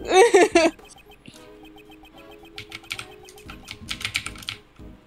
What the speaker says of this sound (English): Who's typing so loudly?